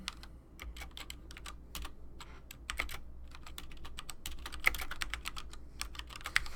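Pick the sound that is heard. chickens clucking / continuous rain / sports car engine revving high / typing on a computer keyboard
typing on a computer keyboard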